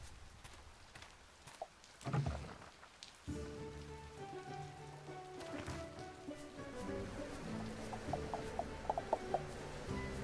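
Steady rainfall patters on surfaces in the farming game Travellers Rest, a soft continuous wash joined midway by a gentle looping music track with light plucked notes over the rain.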